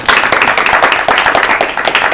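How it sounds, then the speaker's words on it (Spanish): Audience applause at a talk on graphology and photography: a couple of seconds of steady, fairly loud clapping from a modest crowd. "un aplauso para ellos"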